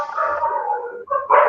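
Dogs bark and yelp in the background behind a guest on a call, a sustained run of high, strained barking for about a second, a brief break, then a louder burst at the end, with no talking over it.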